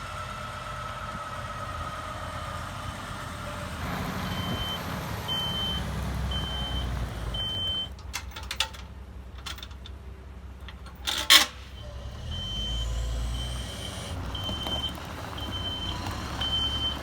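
Gravel delivery truck idling nearby, then a run of evenly spaced reversing beeps that repeats after a pause, with a few brief clunks and knocks in between and the engine rumbling steadily underneath.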